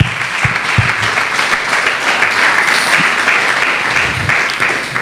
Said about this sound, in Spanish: Denle un aplauso fuerte a la palabra del Señor